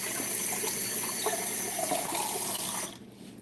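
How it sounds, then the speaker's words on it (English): Water pours steadily into a pot of thick homemade vegetable stock, a loud, continuous gushing rush that cuts off abruptly near the end, with no talking. "So I add some water just to thin this out"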